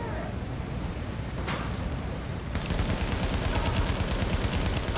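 Continuous gunfire from The Division, a steady, crackling stream of shots that grows louder and denser halfway through, with a sharp report near the start.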